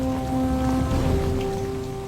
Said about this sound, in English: rain shrouds the mountain